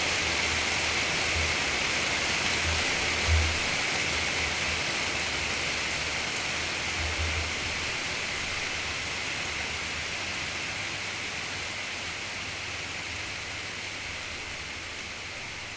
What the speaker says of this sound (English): I can only apologise about this rain, this is quite something.